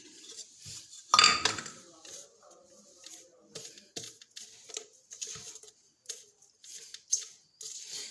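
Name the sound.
stirring nahari masala spice mix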